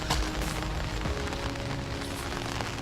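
Steady rain falling outdoors, a dense continuous hiss of drops on surfaces, close and even throughout with no talk.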